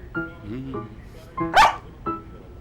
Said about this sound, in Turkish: görüp görebileceğiniz en zeki köpek bu Murat.